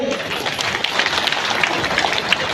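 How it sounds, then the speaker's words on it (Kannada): A crowd at a Ganesh festival gathering in Kalasa claps for a guest, dense scattered hand claps at moderate loudness filling the short moment. "ಜೋರಾದ ಕೈ ಚಪ್ಪಾಳೆ ಅವರಿಗೆ"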